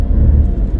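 Heavy road traffic in slow, bumper-to-bumper conditions, heard as a loud, continuous low rumble of car engines close by, with no voices.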